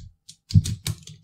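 Short bursts of computer keyboard typing, a few quick clustered keystrokes close to the mic with brief pauses between them, no voices.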